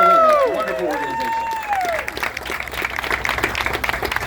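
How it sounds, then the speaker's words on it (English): An audience applauds for Special Olympics at a store grand opening, a burst of clapping and crowd noise that swells after a voice and fades into scattered claps. "let's give Special Olympics a round of applause"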